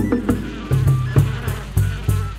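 Mexican stingless bees buzz close by in a steady low drone, with repeated louder pulses as insects pass near, alone without voices.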